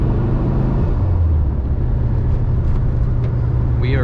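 A 2004 Volkswagen Beetle Ultima Edition on a test drive, its engine and road noise forming a loud, steady low rumble from inside the cabin, with a brief chirp at the end.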